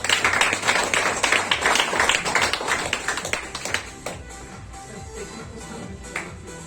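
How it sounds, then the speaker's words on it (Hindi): A crowd at a gathering in Sharjah breaks into loud applause, with dense clapping for several seconds before it thins out into scattered, fading claps. "प्लीज उनके लिए जोरदार तालियां"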